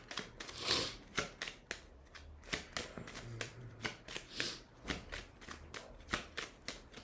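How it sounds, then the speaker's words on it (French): Oracle cards are shuffled by hand in a series of quick, crisp riffles and slaps, close and clear with short pauses between bursts. "Donc on va prendre les cartes de l'oracle de Béline"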